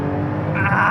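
A Porsche GT2 RS MR launching hard from standstill with its rear tires spinning, the engine roaring loudly and climbing in pitch over a brief burst.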